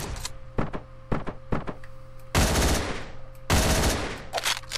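Shotgun blasts in the video game Hotline Miami, with a series of sharp clicks and thumps followed by two loud, booming shots that ring out.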